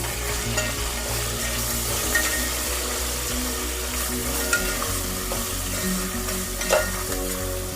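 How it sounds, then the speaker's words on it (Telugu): Ginger garlic paste fries in a pan for a pulao, giving a continuous close sizzle with occasional stirring scrapes and pops. "అల్లం వెల్లిపాయ పేస్ట్ వేసేద్దాం ఇదంతా ఫ్రై చేస్తాం"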